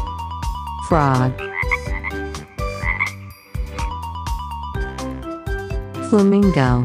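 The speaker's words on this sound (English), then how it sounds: "Frog." Frog croaks, heard as repeated rising calls set within a bright musical backing, with a playful rhythmic melody carrying throughout at a loud, close level.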